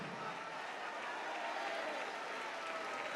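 A church congregation applauding at a Brazilian worship service, dense continuous clapping at moderate level throughout, with no clear voices above it.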